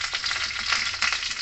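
Mustard seeds sizzling in hot oil in a wok, a loud, dense crackle with quick pops layered over a continuous hiss, close up and without any voices.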